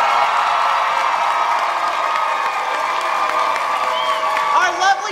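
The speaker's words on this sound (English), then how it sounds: "I just want everyone to cheer for all of our contestants one last time!" A convention masquerade audience cheers and applauds for the costume contestants, a dense, steady roar of crowd noise with whoops and shouts carrying on at full level throughout.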